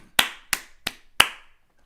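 Four sharp, close hand claps ring out in an uneven rhythm, each ending in a short decay, and then silence follows.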